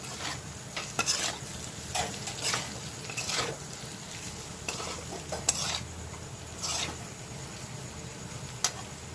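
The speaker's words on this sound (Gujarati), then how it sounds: "સરસ રીતે એને મિક્સ કરી દેવાનું છે।" Boiled potato pieces stirred into bitter gourd (karela) sabzi in a frying pan, a spatula scraping and clinking in repeated strokes over a steady background sizzle, fairly close and moderately loud, no talk.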